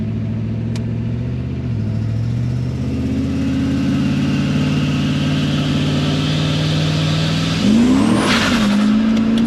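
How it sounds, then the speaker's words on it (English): Car launching hard in first gear using a launch button on a standard Gen3 PCM setup: loud, steady engine drone that rises in pitch, a quick shift-like dip near the end, then the engine keeps pulling, close and with no talk. "See what it's like in first gear."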